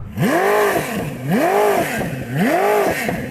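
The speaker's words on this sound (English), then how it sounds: "Rev up your car." A Koenigsegg Jesko or Bugatti Chiron Super Sport supercar engine revs three times in steady rising-and-falling sweeps, loud and close, each rev swelling and dropping back before the next.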